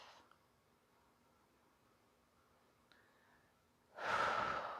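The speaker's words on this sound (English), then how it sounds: "One more round of breath." Slow yoga breath exhaled near the end of a breathing round, a quiet stretch giving way to one loud, breathy rush of air close to the microphone.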